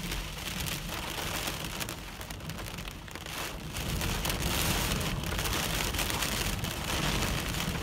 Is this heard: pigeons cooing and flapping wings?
no